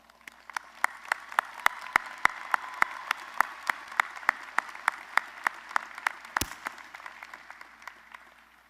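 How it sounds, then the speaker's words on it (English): Audience at a law school graduation hooding ceremony gives a round of applause, sparse, distinct claps spread across a large room, fairly faint and steady, with one louder thump partway through. "Please join me in acknowledging and thanking them with a round of applause."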